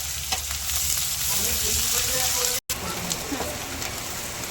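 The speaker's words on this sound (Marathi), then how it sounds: "तेल गरम झालेलं आहे. जिरं मस्त फुललेलं आहे. आता आपण यामध्ये कांदा घालत आहे." Onion frying in hot oil with cumin, a loud, dense sizzle like steady rain with faint stirring sounds, cut by a brief silent gap midway.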